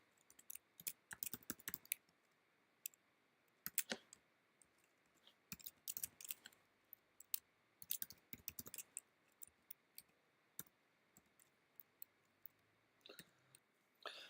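Rapid clicking of keys on a computer keyboard while code for a text adventure game is typed, arriving in uneven bursts and pauses, fairly quiet and close, with no talking.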